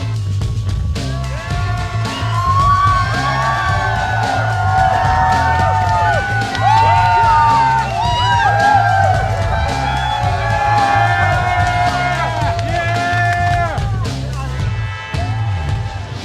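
Arena crowd at the League of Legends Season 3 World Championship esports event, a sustained loud roar of cheering and whoops from a large audience, with a commentator's voice over it.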